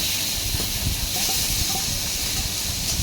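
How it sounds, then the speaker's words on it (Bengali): Marinated snake gourd hits a hot pan with onions, giving a steady, close sizzling hiss that holds evenly throughout, with no talking. "এবার মাখিয়ে রাখা চিচিঙ্গাটা দিয়ে দিচ্ছি"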